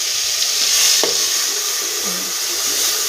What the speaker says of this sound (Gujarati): આપણે શાક વઘાર દીધું.